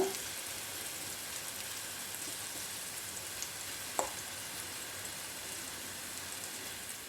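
Paneer fries in oil and ghee in a pan over a medium flame, giving a steady, quiet sizzle with a few small pops and no talking.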